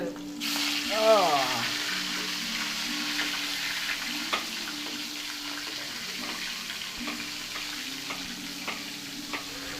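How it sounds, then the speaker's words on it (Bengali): Food dropped into hot oil for a fish curry, a sharp initial sizzle burst that settles into a steady crackling fry with small spatters, close by. "তেল গরম হয়ে গেছে আমাদের। বিসমিল্লাহ। তেলে দিয়ে দিচ্ছি।"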